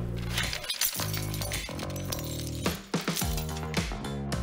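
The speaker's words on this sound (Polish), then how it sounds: "przy czwartym uderzeniu, przy którym się nasiliłem, szyby uległy zniszczeniu" A window glass pane shatters under repeated hammer blows in a strength test. Ringing crashes and bright tinkling fragments follow one another in close bursts, loud and near.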